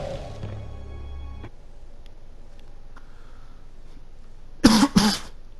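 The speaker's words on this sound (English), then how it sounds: "excuse my coughing" A person coughs twice in quick succession near the end, loud and close, after a stretch of quiet room tone with a brief musical tone at the start.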